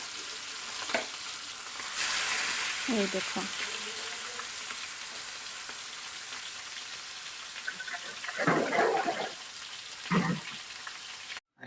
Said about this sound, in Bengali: তো আমি এই চিকেন দুটাই তো এখানটা ফ্রাই করব